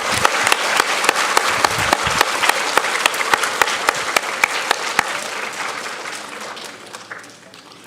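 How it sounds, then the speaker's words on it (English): Audience applauding fifth graders at a school awards assembly, with dense, sustained clapping and sharp individual claps that taper off near the end as a voice speaks underneath. "Let's give our fifth grade friends a round of applause."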